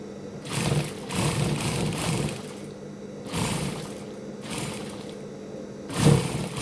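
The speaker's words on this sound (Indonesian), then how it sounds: "Lalu kemudian kita jahit terlebih dahulu ya" A sewing machine stitches seams on an abaya in several bursts of whirring run, each a second or so long with short pauses between, fairly close and steady, with no talking.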